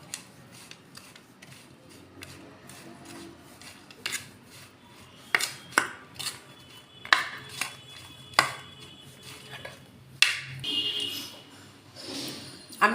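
Scraping and clinking of amla being mixed with spices in a bowl, a series of irregular taps and rubs that grow busier toward the end, with soft background noise and occasional low voice.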